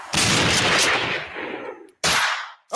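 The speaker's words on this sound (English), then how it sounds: "Some gunshots right quick." Loud, close gunshot sound effect: one long blast with a decaying rumbling tail, followed by a second, shorter report after a gap of silence. No voices.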